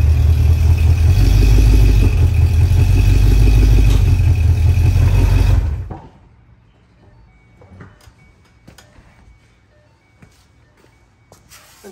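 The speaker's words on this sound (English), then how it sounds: "So I'm gonna drive up the ramps and we're gonna do it that way." A car engine runs loud and steady for about six seconds while the vehicle drives up ramps, then cuts off abruptly, leaving a quiet space with faint clicks and scattered small knocks.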